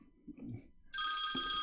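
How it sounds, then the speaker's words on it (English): A telephone starts ringing abruptly after a quiet moment, a bright electronic ring sounding loud and close, with a faint low bump of room noise just before it. "And that's the phone ringing."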